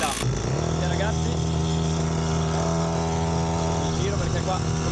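A motorcycle engine runs steadily with a loud, rough harmonic drone, holding a constant pitch and volume throughout, close to the listener.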